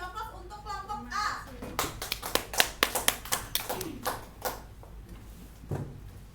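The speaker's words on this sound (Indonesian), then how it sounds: "beri aplaus untuk kelompok A" Classroom applause for a student group, a short burst of rhythmic clapping by several people, close and lively, with a teacher's voice before it.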